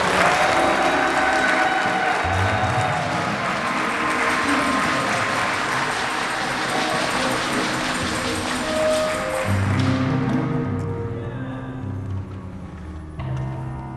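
Wedding guests applaud inside a church, a dense, sustained round of clapping that fills most of the clip and thins out toward the end as a few voices murmur.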